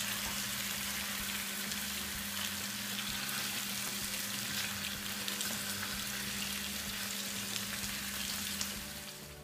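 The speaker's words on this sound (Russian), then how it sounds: "И пусть немного обжарится, теперь и с другой стороны." Rabbit pieces frying in vegetable oil give a steady, close, crackling sizzle that continues evenly and fades slightly at the end, with no talking over it.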